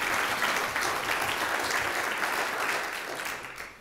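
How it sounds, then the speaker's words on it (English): A church congregation at a Maundy Thursday joint service at Hamilton Old Parish Church breaks into a short burst of warm applause, dense and even, tapering off toward the end. "I think that deserves a wee round of applause"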